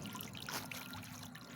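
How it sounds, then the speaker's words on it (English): Faint, steady trickle of water from a solar-powered bird bath fountain, a soft continuous babble with no voices. "I like the sound of the trickling water"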